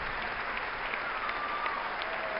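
A packed chamber at the 2013 US State of the Union address applauds as the president enters, a sustained, even roar of clapping heard from a distance without a break.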